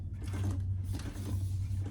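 A hand-cranked sewing machine stitches the thick, foam-lined side seams of a crossbody bag, producing a low mechanical whirring hum with a brief pause partway through, close and steady.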